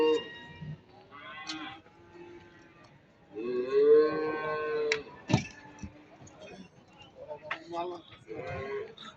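Cattle low at a busy livestock market, with several drawn-out moos and bleat-like calls rising close by amid scattered bumps and market voices.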